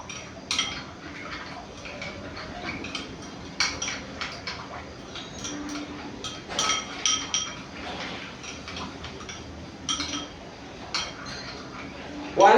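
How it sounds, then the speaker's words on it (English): Chicken-avocado salad tossed in a bowl with salt and black pepper, utensils clinking and scraping against the dish in irregular bursts at moderate volume, with a voice talking over it. "And then we are going to mix very well."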